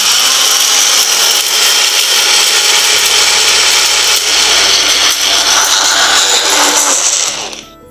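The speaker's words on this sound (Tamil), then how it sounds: "எல்லாத்தையும் மிக்ஸ் பண்ணிட்டு அரைச்சிடலாம்." A mixer grinder whirs loudly and steadily while grinding sandalwood and herbs into powder, a dense close roar that holds throughout before winding down at the very end.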